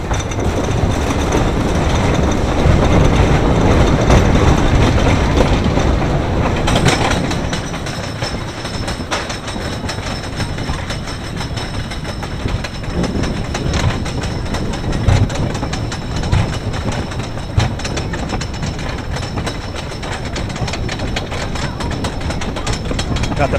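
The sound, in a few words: Zippin Pippin wooden roller coaster ride, front row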